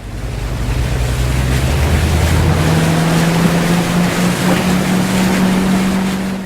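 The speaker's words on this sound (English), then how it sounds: "now let's hear the roar of the engine and head off to this location." A motorboat engine in the video game City Life 3 roars loudly and steadily, its deep droning hum rising slightly in pitch midway, with rushing water and wind noise around it.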